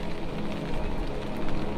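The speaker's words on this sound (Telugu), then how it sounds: "ఈరోజు ఫుల్గా వర్షం పడుతుందండి" Heavy rain pours down steadily outdoors in a forest area, a dense, even roar of drops on surfaces with no talking.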